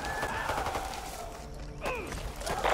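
Sharp shotgun blasts ring out in a first-person shooter game, several quick reports at moderate volume amid other game sounds.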